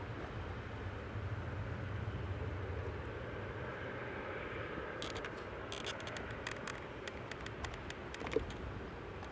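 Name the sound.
Ryanair plane from Funchal taxiing at Manchester Airport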